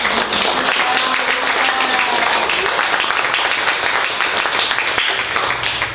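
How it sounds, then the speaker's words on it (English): Steady, fairly loud round of applause from an audience at a book reading in a bookstore, many hands clapping evenly throughout with no break. "let's give her a round of applause"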